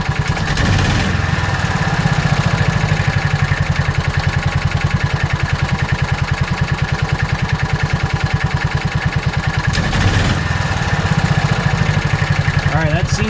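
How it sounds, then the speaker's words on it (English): A John Deere Gator 4x2 utility vehicle engine, freshly tuned with new clutches and magneto, runs at a steady rattling idle, then rises briefly in revs with a throttle bump before settling back, close and continuous. "Let's bump the throttle and see how that response is."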